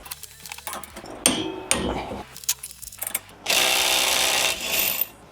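A Procraft Industrial ID20A impact driver rattles in loud bursts while unscrewing a bolt, with sharp hammering impacts that build into a sustained, close ratcheting burst near the end.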